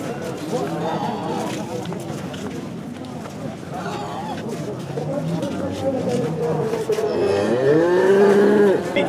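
A milking cow lows several times at a winter livestock market in Uchkun, Kyrgyzstan. The moos are close and rise toward the end, mixed with people talking and crowd noise.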